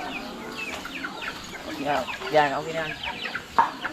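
Chickens cluck in short bursts close by while a person talks over them, with a brief louder call near the end.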